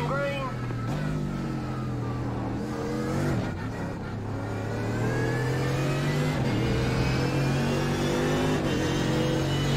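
A Mercedes AMG GT3 race car in iRacing launches in first gear at Suzuka during an IMSA Sportscar Championship race, its engine revving loud and rising through the gears with other cars' engines around, while voices talk over the noise.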